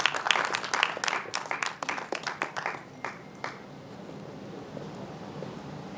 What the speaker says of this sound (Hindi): एक बार उनके जोरदार तालियां बजाई जाएं